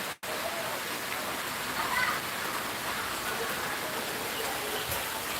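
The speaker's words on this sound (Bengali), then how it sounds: "এই মুহূর্তে রয়েছে বৃষ্টি" Light drizzling rain makes a steady, soft, broadband hiss that stays even and fairly faint throughout, with no voices.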